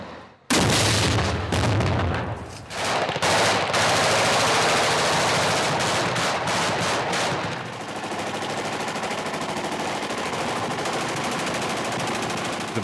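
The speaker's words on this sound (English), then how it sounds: "we open fire with the heavy machine gun" A heavy machine gun opens fire in urban combat in Mosul, joined by a massed volley of outgoing gunfire: loud, dense bursts and rapid shots close by, settling into a sustained rattling roar.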